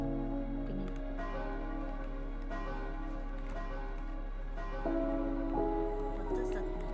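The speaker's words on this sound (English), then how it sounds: "let's ring the bells one more time" Bells rung in a Minecraft game chime in repeated struck tones that overlap and ring out, steady and moderately loud, with no talk over them.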